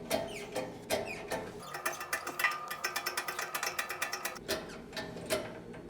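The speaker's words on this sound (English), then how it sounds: "there's a hole here, perfect for the bushing to fit in, and we can start pushing it in" A new bushing pressed into a part of a BMW E31 850 under restoration, a close run of rapid rhythmic clicks and metallic ratcheting taps, quiet and alone.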